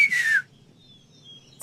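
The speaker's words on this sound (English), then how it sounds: "Can you whistle? Like this?" A game character in The Longest Journey gives a short, sharp whistle that glides downward, followed by faint quiet and the start of another whistle at the end.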